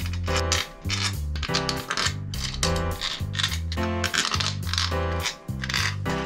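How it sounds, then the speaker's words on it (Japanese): Metal bolts being placed and dropped into the aluminum crankcase of a Honda CBR1000RR engine during assembly, a series of close, bright metallic clinks and rattles in irregular clusters with short gaps. "ボルト入れる。"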